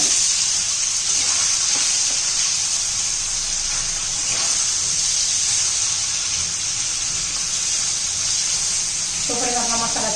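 Spiced fish pieces coated with chilli, salt, turmeric, coriander powder and ginger-garlic paste frying in a pan for fish curry, giving a steady close hiss and sizzle that runs on without a break.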